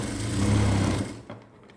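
A sewing machine runs close by for about a second, stitching lining cloth to blouse fabric with a fast buzzing whir, then stops with a small clunk and falls quiet.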